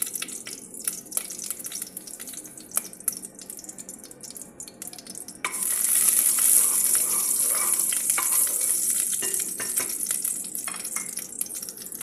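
Oil heating in a pan for kushari sauce crackles with a steady sizzle that swells sharply louder halfway through, bright hissing spatter over scattered small clicks and drips, no talk.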